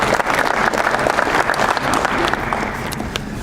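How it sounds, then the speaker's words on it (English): Audience applause at a baseball coaching clinic, a dense burst of clapping from the crowd that holds steady throughout, with faint crowd murmur beneath. "So if we can give those guys a round of applause."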